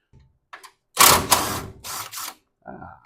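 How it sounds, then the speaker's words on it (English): Ratcheting wrench turning a bolt during a QA1 suspension upgrade on a muscle car, a few short bursts of clicking close up, separated by pauses, with a faint voice near the end. "And need a wrench."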